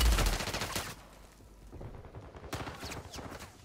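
Rapid machine-gun fire in an online shooter video game, a loud sustained burst at the start, then quieter scattered shots and a second burst of rattling fire later.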